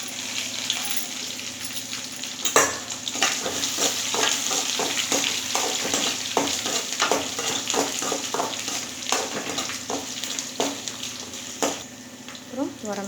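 Onion, garlic and chana dal fry together in a pan for lemon rice. A close, bubbling sizzle runs throughout, punctuated by repeated sharp clanks and scrapes of stirring.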